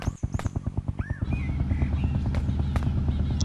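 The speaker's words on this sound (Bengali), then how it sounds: "ওই হেলিকপ্টার যাইতাছে ভাই" A helicopter in the video game Dude Theft Wars passes close, its rotor chopping in fast even pulses before blending into a loud, steady engine drone.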